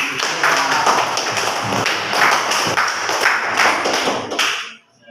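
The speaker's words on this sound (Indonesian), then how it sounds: "tepuk tangan dulu" A classroom full of students claps together in sustained, lively applause that fades out at the end.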